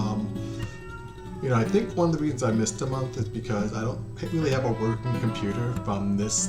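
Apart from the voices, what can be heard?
pet cat meowing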